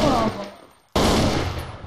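Gunfire in Counter-Strike: Source as a player shoots through a wall, a loud burst that cuts off, a short gap, then another sharp burst of rapid shots.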